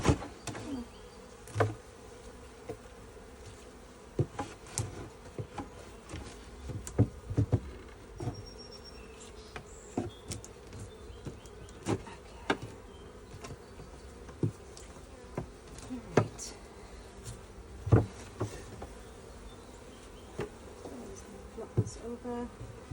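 Honeybees buzz at an open hive in a steady, continuous drone close by, with occasional sharp knocks and clicks breaking through now and then during a hive check.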